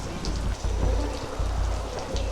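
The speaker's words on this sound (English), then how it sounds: "Ooh, it's raining." Rain pours steadily in a scene of a TV show playing in the room, a dense close patter on surfaces with faint low rumbles underneath and no voices.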